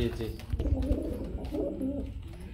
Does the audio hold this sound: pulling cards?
no